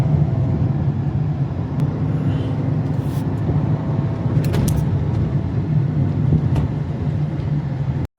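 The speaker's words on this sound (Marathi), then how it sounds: "तर गाडी झालेली चालू" A car drives along a road on the way to Panvel, heard from inside. A steady low engine and road rumble holds throughout, with a few faint clicks and rattles on top.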